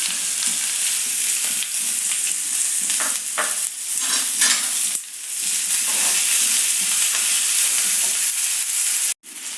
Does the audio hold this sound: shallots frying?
yes